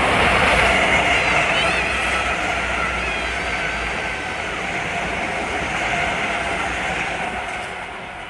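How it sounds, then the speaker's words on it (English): A Metro-North express train bound for North White Plains rushing past on the Harlem Line, a loud broad steady roar with wheel noise that slowly fades toward the end. "that was 543 to North White Plains. One of those express trains"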